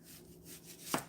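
Kitchen knife slicing an onion in half on a cutting board: quiet rubbing then one sharp chop followed by a second smaller knock, close and alone.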